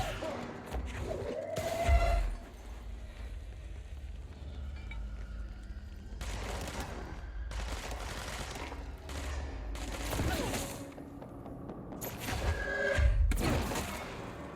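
Gunfire from the video game Control comes in several separate bursts of rapid shots with thumps and clinks between them, over a low ambient background.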